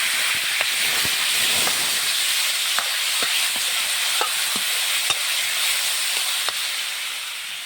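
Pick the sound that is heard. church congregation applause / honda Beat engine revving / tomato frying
tomato frying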